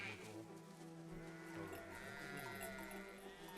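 Sheep bleat in the game Soldats inconnus, several overlapping wavering baas at moderate volume, repeating over a continuous ambient bed with no talking.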